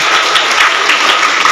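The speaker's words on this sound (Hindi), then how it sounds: "जोरदार तालियां हमारे शिक्षा मंत्री जी के लिए।" A school gathering breaks into a short burst of loud, dense applause for the education minister, many hands clapping at once.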